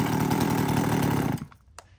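Chainsaw engine running after a pull start, a loud buzzing two-stroke drone for about a second and a half, then cutting off abruptly into quiet with a faint clunk.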